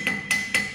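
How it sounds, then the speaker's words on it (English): A chipping hammer strikes weld slag on a metal tee joint three times in quick, even succession, sharp metallic clinks with a faint ringing tone, close and clear with no talk. "Now you clean the holding surface by chipping hammer."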